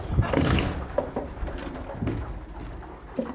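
Viennese show pigeons coo in a loft, several soft overlapping calls close by, with rustling and low background noise and no talk.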